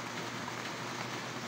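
Steady rain falls throughout during a signal number 1 storm in Cebu, an even wash of close patter with no gaps and no voices.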